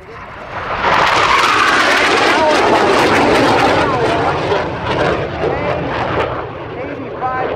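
An F-5 Tiger jet roars past loudly at the 2018 Terre Haute airshow, swelling after the first second and holding a strong engine rush that slowly fades, with a voice talking underneath.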